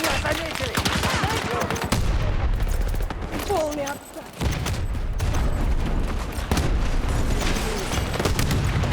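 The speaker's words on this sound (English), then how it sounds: "It's too much explosions." Rapid gunfire and heavy explosions burst continuously in a shooter video game, loud crackling volleys and booms layered densely with a brief lull midway, with a voice speaking over the action.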